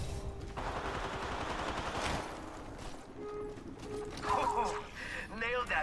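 Game gunfire from an Apex Legends-style battle royale squad fight, with dense rapid automatic shots over the first two seconds, then scattered shots and effects while voices talk over the action.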